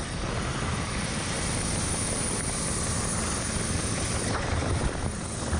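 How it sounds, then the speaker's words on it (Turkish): Rescue helicopter flying over a flooded area in the Black Sea region during heavy rain, its rotor and engine roar loud, steady and close throughout with no one speaking. "Evlerinde mahsur kalanlar helikopterle kurtarıldı."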